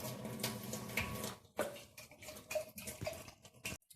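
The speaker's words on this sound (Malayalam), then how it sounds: "പിന്നെ നമുക്കിതെല്ലാം കൂടി ഒന്ന് മിക്സ് ചെയ്തെടുക്കാം" Dark chocolate ingredients are mixed in a pan, giving faint scraping and clinking of a utensil against metal in an uneven rhythm, quiet and close, with a short silence near the end.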